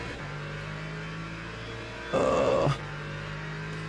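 Race car engines in a racing video game at Imola hum steadily, then one surges loudly in a short revving burst of about half a second before settling back to a constant drone, with a brief voiced exclamation.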